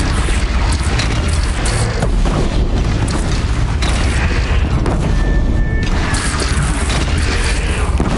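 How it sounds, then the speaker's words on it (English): Bridge shot down and collapsing in a PS4 game, a dense, loud rumbling crash of booms and breaking debris that fills the whole stretch, with a brief whistling tone midway. "They're gathering under the bridge, Aloy. Bring it down on them"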